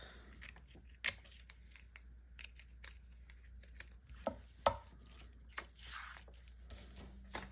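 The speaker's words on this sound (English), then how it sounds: "I'm gonna cut it from this way." Scissors snip through cheesecloth laid over paper: a handful of faint, sharp cuts spaced irregularly across a quiet room, with soft rustling between them.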